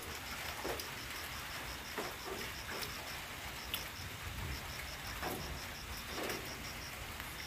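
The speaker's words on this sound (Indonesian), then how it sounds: "jadi harinya ini hujan gerimis malam ini" Light night drizzle falls steadily as a soft, even hiss of rain on surfaces, with scattered drop taps and a faint repeating insect-like chirp in the background; no talk.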